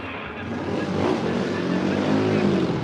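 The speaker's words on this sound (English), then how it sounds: "it looked like he was struggling to get down the gears there." Classic racing motorcycle changing down through the gears at a corner on a road course, heard as a continuous engine roar that rises and falls over a few seconds with no talking.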